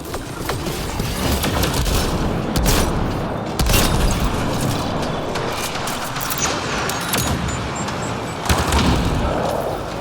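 Turret fire in the video game Mass Effect Andromeda rattles on steadily, dense booming shots layered in a loud continuous battle din with no clear speech.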